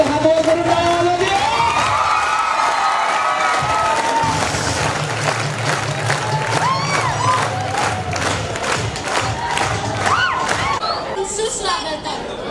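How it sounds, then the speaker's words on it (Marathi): A loud college fest crowd cheers, shouts and claps during a boys' performance, a dense roar of voices and applause with whistles and a tonal music or voice layer over it, continuous throughout. "जोरात टाळ्या वाजवायचे हात वर करून टाळ्या वाजवायचे"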